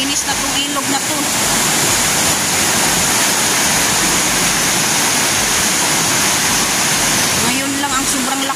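The Piñan River, flooded and swollen after heavy overnight rain, roars with a loud, steady rush of water that fills the scene, and brief voices rise above it at the start and near the end.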